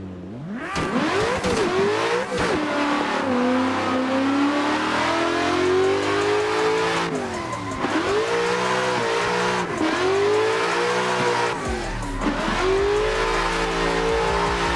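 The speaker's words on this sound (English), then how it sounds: "That S13 though is hella fast." A Nissan S13 drifts in the racing game Assetto Corsa, its engine droning loud and high with rising revs that dip at gear shifts and lifts, over a constant hiss of squealing tires for the whole stretch.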